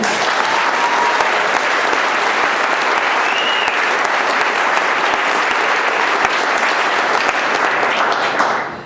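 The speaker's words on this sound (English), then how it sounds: "So a big round of applause for Chris." Big, sustained round of audience applause for a new board member at a meeting, a dense, even wash of many hands clapping that holds steady before tapering off at the end.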